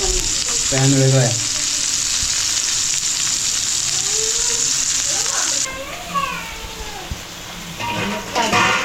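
Mackerel fry in a little hot oil in a pan, giving a loud, steady crackling sizzle close by, while women chat over it and the frying dips partway through.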